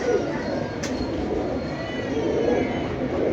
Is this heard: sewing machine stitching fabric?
no